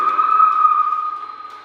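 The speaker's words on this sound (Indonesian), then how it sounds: "suara perkutut muncis saya, kecil ya tapi nyaring" One clear, ringing coo from a small zebra dove, held steady and fading slightly at the end, close and loud.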